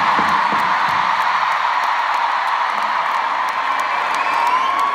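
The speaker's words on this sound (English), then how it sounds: "if you guys could give yourselves a round of applause" Large arena concert crowd in Prague cheering, whooping and applauding in a loud, dense, sustained roar, close and continuous with no distinct speech.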